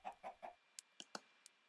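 A Minecraft chicken clucks three times in quick succession, followed by several sharp, faint clicks and taps, all quiet with no talking.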